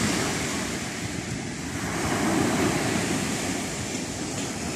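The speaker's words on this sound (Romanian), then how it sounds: "încă mai admir valurile" Black Sea waves rolling onto the beach at Costinești at sunset, a steady broadband wash of surf with some wind rumble, continuous and fairly close, no voices.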